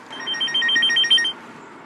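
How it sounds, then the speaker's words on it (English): A mobile phone rings nearby, sounding a loud, bright electronic trill in a quick repeating pattern for about a second before cutting off. "Is that your phone ringing?"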